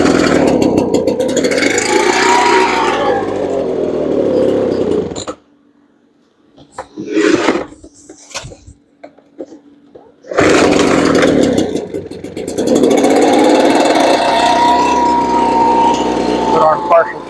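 A leaf blower's small two-stroke engine, running on partial choke and leaking at the primer bulb, roars loudly and close, cuts out for several seconds, then restarts and revs again at full volume.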